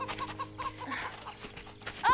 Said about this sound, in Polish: A tam są kury.